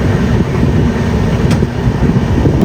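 Steady low rumble of a passenger train in motion, heard from inside the carriage during a long-distance journey from Tirupati toward Dwaraka, continuous and fairly loud with faint clicks and no talking.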